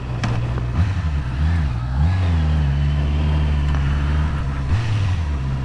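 A 2019 Honda CB650R motorcycle revs up from idle with a loud, close engine roar, pitch rising and falling through several throttle blips over a steady running drone.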